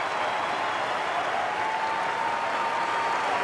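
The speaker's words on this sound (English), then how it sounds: "the Port Adelaide crowd, are clapping a champion as he retires from the field." Port Adelaide football crowd applauding a champion player as he retires from the field in his final game, a 2007 AFL final against North Melbourne; steady, dense clapping fills the stadium evenly throughout, loud and unbroken.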